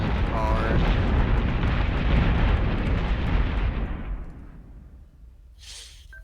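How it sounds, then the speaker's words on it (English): Missile explosions in Battlestar Galactica Deadlock rumble heavily in a deep, continuous roar that fades out toward the end, followed by a brief higher-pitched burst. "Here come more missiles"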